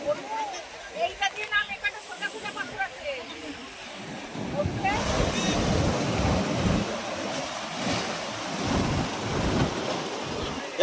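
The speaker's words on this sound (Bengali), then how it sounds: "ঢেউ বিরাট হচ্ছে এবারে এবারে আসছে আস্তে আস্তে আসছে" Sea waves surge and break on the beach at Digha, a broad roaring wash of surf that builds and stays loud with wind buffeting the microphone, while people speak briefly at the start.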